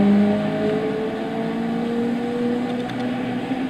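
Subaru Impreza WRX Wagon STi rally car, a 2-litre 16-valve turbo, in the Gran Turismo 6 video game, holding a steady, moderately loud engine drone whose pitch sags slightly and then levels out.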